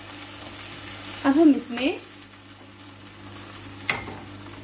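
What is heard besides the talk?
chicken frying and being stirred in a pan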